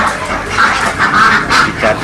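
A crowd of ducks at a duck farm quacks loudly and continuously, with overlapping raspy calls close by and no talking.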